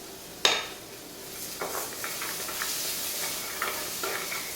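Vegan butter sizzles in a hot pan with a soft, steady frying hiss, opened by a sharp clank and followed by scattered light stirring scrapes and utensil taps.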